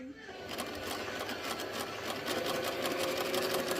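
A Pfaff 360 heavy-duty German-made sewing machine sewing a straight stitch, a steady close rapid mechanical whir with a fast even needle rhythm.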